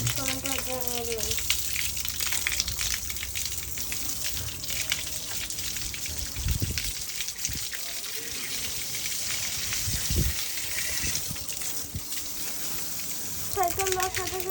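Water splashes and gushes steadily while a bicycle is washed on a day off, with a broad hiss and scattered drips and thuds, and a voice speaking over it at times.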